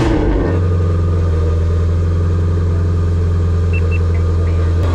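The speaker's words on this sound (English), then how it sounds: "Catless cold start. Fire up." A Ford Mustang GT350 with catless midpipes and closed exhaust valves cold-starts with a sharp initial burst, then settles into a loud, deep, steady high idle rumble up close.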